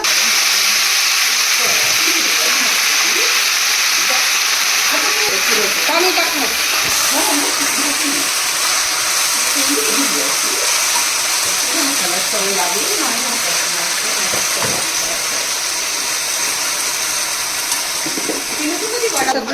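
Steady hissing and sizzling as water is poured into a hot pan of tempered methi bhaji, continuous and fairly loud, with faint voices murmuring underneath.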